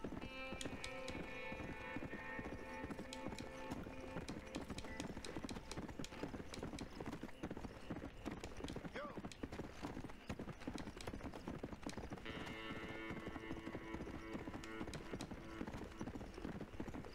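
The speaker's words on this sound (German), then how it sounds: "Jetzt reiten wir da einfach mal hin." Horse hooves clip-clop steadily in Red Dead Redemption while riding, a fast, even rhythm held throughout with soft game music beneath.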